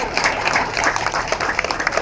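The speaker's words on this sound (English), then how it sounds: "You can applaud." An audience claps at the official dedication ceremony of the Liberia Maritime Training Institute. The applause is dense and continuous, with many overlapping claps filling the short moment.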